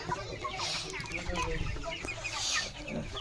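Farm chickens cluck and squawk close by in a busy, irregular chorus of short calls, with faint voices talking in the background.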